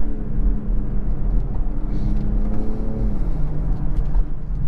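A 2019 BMW X6 40i's B58 inline-six hums and revs steadily in sport mode with a low, rising drone, the pitch climbing and settling as the throttle opens, with road rumble underneath.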